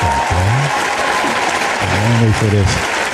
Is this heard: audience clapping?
yes